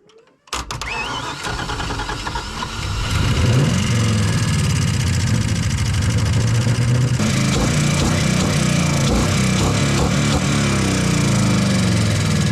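A 5.3 V8 engine in a Nissan 240SX, running on seven cylinders, cranks and catches, then settles into a loud, rough, lumpy idle that continues unbroken and close.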